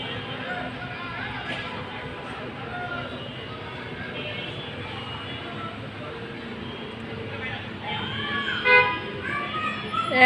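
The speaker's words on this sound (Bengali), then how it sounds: "সকালবেলায় কি জ্যাম লাগছে দেখুন" A daytime traffic jam on a congested road ahead of a festival, with horns tooting repeatedly over a steady engine drone. The honking grows louder and denser toward the end.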